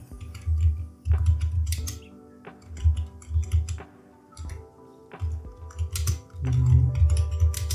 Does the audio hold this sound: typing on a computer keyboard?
yes